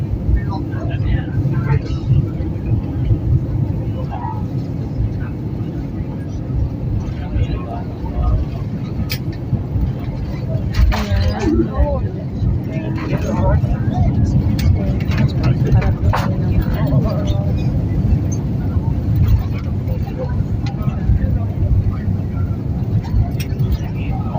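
Steady, loud rumble of an airplane landing, heard from inside the passenger cabin, with engine and cabin roar filling the whole stretch and faint voices in the background.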